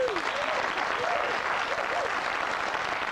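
Studio audience applause on a 1994 Family Catchphrase game show, a steady wash of clapping from a crowd that runs the whole time, with a few faint voices and cheers mixed in.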